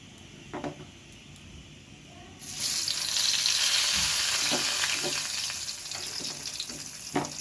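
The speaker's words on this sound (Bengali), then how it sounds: "এখন ওই তেলেই আমি এই যে মাখানো এই বেগুনগুলো দিয়ে দেবো" Spiced eggplant slices drop into hot ghee and burst into a loud, steady sizzle that fills the kitchen, with a few clinks of utensils before and during the frying.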